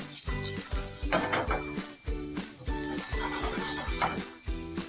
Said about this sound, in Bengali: এবার আমি রসুন কুচি, আদা কুচি আর পেঁয়াজ কুচিগুলো দিয়ে দেবো।